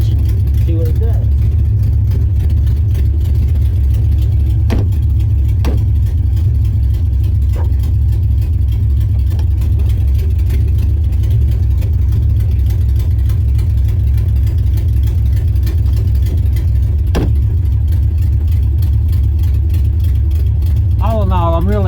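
A 1976 Porsche 914 engine runs steadily, a low, continuous mechanical drone with a few sharp clicks and knocks, heard close up after a long period parked.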